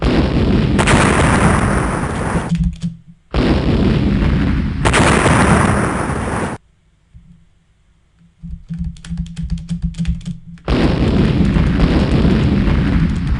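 Loud noisy bursts from a scrolling shooter video game, like enemy spaceships exploding, come in long blasts separated by brief gaps, with a rapid crackling stretch in the middle.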